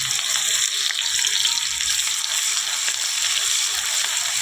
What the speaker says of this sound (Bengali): পেঁয়াজটা একদম লাল করে ভেজে নেব।